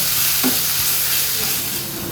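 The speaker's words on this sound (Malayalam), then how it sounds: "വെളുത്തുള്ളി ഇഞ്ചി അരച്ചത് ജിഞ്ചർ ഗാർലിക് പേസ്റ്റ് ഇട്ട് കൊടുത്ത് ആ ഇഞ്ചിയുടെ വെളുത്തുള്ളിയുടെ പച്ച മണം ഒന്ന് മാറി കിട്ടണം" Ginger garlic paste and onions frying in a pan give a loud, steady sizzle, with a single brief stir scrape near the start.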